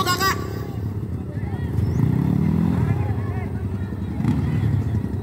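A motorcycle engine revs at a hill-climb contest, rising and falling roars at moderate distance beneath an announcer's voice over a crowd.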